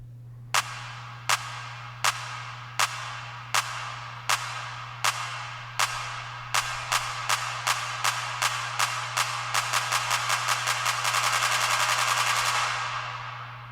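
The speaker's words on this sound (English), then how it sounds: "I automate that reverb to basically mix more into the reverb as opposed to the dry signal as the claps speed up." Drum-machine claps in a beat, starting as sparse evenly spaced hits and steadily speeding up into a dense roll, growing more washed and spread out with reverb as they accelerate over a constant low hum.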